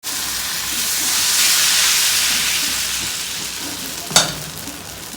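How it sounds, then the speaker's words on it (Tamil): Appam batter sizzling and frying on two appam pans and a dosa griddle in a home kitchen at night, a steady close hiss rising and holding, with one brief sharp clatter near the end. "இன்னைக்கு நைட் எங்க வீட்ல என்ன டிஃபன் பார்த்தீங்கன்னா, ஆப்பம் சுட போறாங்க"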